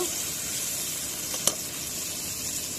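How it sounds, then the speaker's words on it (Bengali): Onions fry gently in a pan with a steady, even sizzle and hiss. A single brief click of a utensil sounds midway. "পেঁয়াজটা একটু ভেজে নিচ্ছি"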